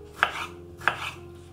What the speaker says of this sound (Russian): Не очень крупно нарезаем помидорку.